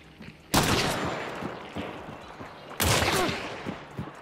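Gunfire in Hunt: Showdown, with two loud, close volleys of rapid overlapping shots about two seconds apart, each burst decaying into scattered lighter pops and distant cracks.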